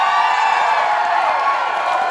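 Club audience at a drag comedy show cheering and clapping loudly, a dense continuous crowd roar with whoops, close and steady throughout.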